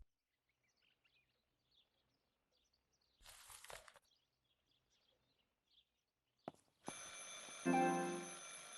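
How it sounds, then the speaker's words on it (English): An old-style telephone rings in the video game Martha is Dead, a loud bell burst near the end after quiet room ambience and a couple of soft knocks. "I should pick up the phone but remain silent."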